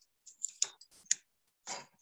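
Scissors cut through a folded paper sheet for a ladybug craft, a handful of short, crisp snips and rustles spaced irregularly in an otherwise quiet room.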